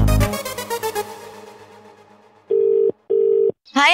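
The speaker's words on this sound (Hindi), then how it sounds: "कब से सुहानी को फोन कर रहा हूं, फोन ही नहीं उठा रही।" A phone call goes unanswered: a steady ringback tone sounds in two long, evenly spaced pulses after a quiet pause, loud and clear, with no voices.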